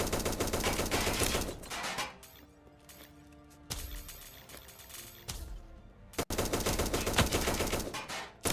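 Rapid machine-gun bursts with homing bullets in Grand Theft Auto blast loud and close, easing into scattered single shots and crashes during a quieter middle stretch before heavy continuous fire returns.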